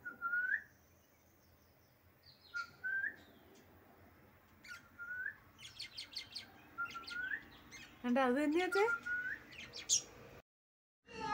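A pet parrot gives repeated short rising whistles and chirps, close and fairly clear, spaced out and then faster near the end, with quiet speech in between.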